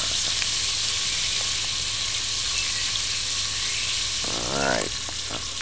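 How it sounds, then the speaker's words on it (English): Oxtail browning in a pan on a stove at medium-low heat, a loud, steady close-up sizzle and crackle of frying meat that runs continuously, with a brief clink of utensils near the end and no talk. "So this is browning the oxtail naturally. So just allow it to fry for another 2 minutes on the other side."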